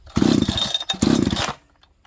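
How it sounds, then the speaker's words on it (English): A Farmertec 288 kit chainsaw, warm and on choke, catches briefly in two short loud revving bursts before dying away. "Listen, this saw will start."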